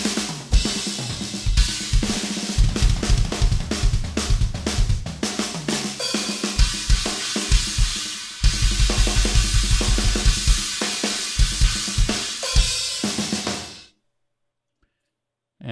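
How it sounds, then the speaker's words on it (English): A drummer plays an isolated drum solo: fast, dense kick, snare, tom and cymbal hits in shifting rhythmic patterns, loud and close, ending with a crash that decays into silence. "He plays a drum solo at the end, or towards the end, after this guitar solo section."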